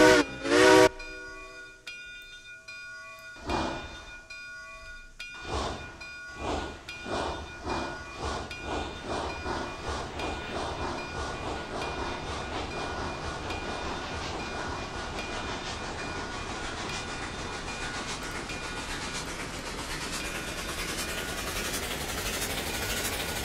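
A steam locomotive in a railroad video game starts off after the throttles open, with sharp whistle and hiss bursts followed by chuffing that quickens into a continuous rushing roar.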